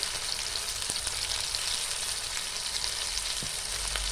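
Chilli chicken sautéing with salt and turmeric in a hot pan gives a steady, dense sizzle that runs unbroken throughout, close and even, with a couple of faint stirring knocks and no talk.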